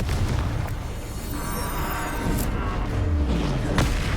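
Confringo blasting spell explosions in Hogwarts Legacy, a series of deep booming blasts and thuds layered with crackling debris and whooshing magic, close and loud, over a steady game background.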